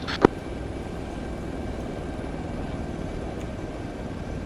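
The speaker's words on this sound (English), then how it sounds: "I hear another chopper." A helicopter in a military video game flies nearby, giving a steady, continuous engine and rotor drone that stays even in level, with one short sharp click near the start.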